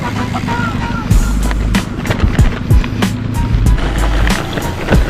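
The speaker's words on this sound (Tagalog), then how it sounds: "Rinig na rinig mo ang bawat nguya ng goma sa graba na dinadaan." Bicycle tyres crunch steadily over loose gravel with scattered sharp grinding bursts, close and continuous, against a broad rushing background.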